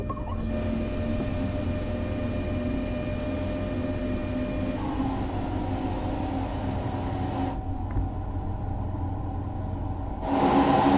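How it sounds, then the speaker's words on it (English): A train in the video game Train Sim World 5 accelerates. Its steady engine rumble and drone run with several sustained tones that shift in pitch partway through, and a brief rise in level comes at the end. "As the train accelerates, you can apply more power as needed."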